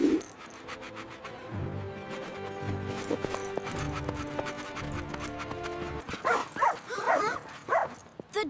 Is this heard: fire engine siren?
no